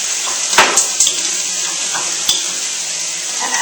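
Eggplant and tofu with vegetables sizzle and fry in a wok, a steady close hiss broken by a few sharp clinks and scrapes of stirring.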